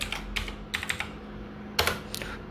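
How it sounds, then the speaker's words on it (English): Computer keyboard typing in short bursts of several quick keystrokes, with brief pauses between clusters, fairly close and moderately quiet over a steady low hum. "Okay, now let's type"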